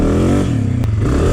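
A dirt bike engine revs hard and close as the throttle is whacked open, a loud rising buzz with a brief scrape as the rear tire breaks loose.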